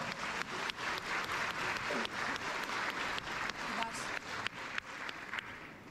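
An audience claps at a school holiday concert, the applause punctuated by sharp individual claps and mixed with voices talking over it.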